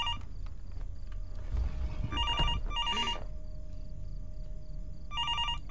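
A telephone rings in the horror video game Fears to Fathom, repeating in short bursts of electronic trills across the clip, with a brief rustling noise in the middle.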